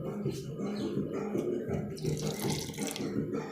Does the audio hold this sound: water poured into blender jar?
yes